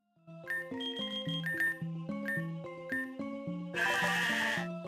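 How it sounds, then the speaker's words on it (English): A sheep Pokémon cry plays in the Pokémon Grueling Gold video game, a synthesized bleating call made of stepped, chiptune-like notes that repeat several times, loud and close, and rises to a buzzy burst near the end. "That is a big old sheep."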